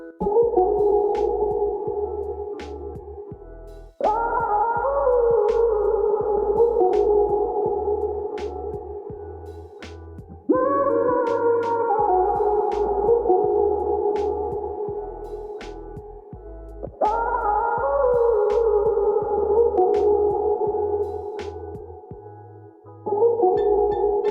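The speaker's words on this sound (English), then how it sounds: "found some vocal samples from another cymatics pack, slowed them down and chopped them up and resampled them" Slowed, chopped vocal samples in four long reverberant phrases, each starting abruptly and fading slightly, with spacious wash and low tones underneath.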